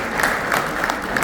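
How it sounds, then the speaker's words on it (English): Applause from an audience at a Rotary membership breakout session, a brief steady patter of many hands clapping with some crowd noise mixed in. "So let's give her a big warm applause."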